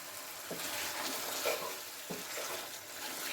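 Chicken pieces frying under a lid in a pan, with a soft, steady sizzle and a few gentle stirring scrapes, fairly quiet and close.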